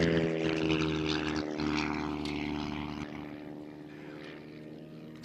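Aerobatic propeller airplane at the NAS Oceana Air Show, a loud continuous engine drone with steady propeller harmonics that slowly fades as the plane rolls away, no talking.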